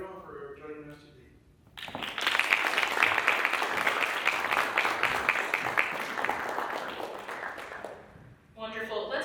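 A crowd at a hospital donation event breaks into applause that swells and holds steady for about seven seconds, with a speaking voice just before it and again after it fades.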